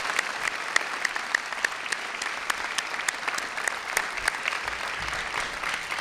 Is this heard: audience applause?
yes